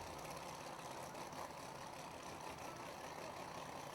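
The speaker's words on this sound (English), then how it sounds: "You can hear the much more mundane exhaust or quiet exhaust note out of the turbocharged car" A turbocharged drag racing car sits with its quiet, mundane exhaust note, a steady low idling drone with faint engine knocking, continuous and fairly distant with no speech.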